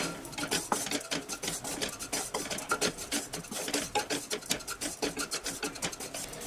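Roasted spices with turmeric and garam masala stirred in a pan, rapid rhythmic scraping and rubbing of a spoon against the metal, continuous and fairly close.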